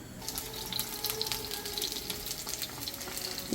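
A pot of broth made with kelp, dried anchovies and green onion bubbles steadily on the stove, giving a continuous close, soft watery hiss with faint crackle throughout.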